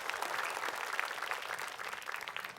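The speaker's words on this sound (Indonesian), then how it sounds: "Tepuk tangan buat Ustadz Dery" A studio audience on an Islamic television program claps for Ustadz Dery, brisk, dense applause heard fairly softly, continuous through the short moment.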